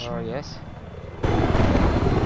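A helicopter in a video game battle on the Caspian Border map whirs close by after a short spoken word, its rotor noise swelling suddenly into a loud, dense, steady roar.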